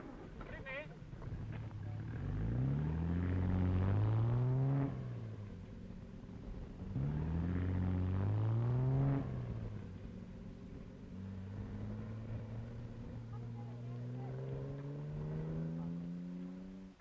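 Rally cars race hard on a stage of the 1959 Alpine Rally, their engines rising and falling in two strong surges, then holding a long climbing note at mid-distance.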